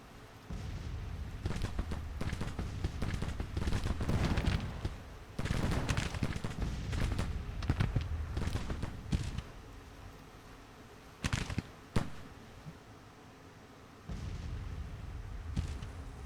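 Battlefield gunfire in the Civil War strategy game Gary Grigsby's Civil War, a dense rolling fusillade of musketry aimed at an artillery battery, with heavy booms and sharp cracks over a continuous din.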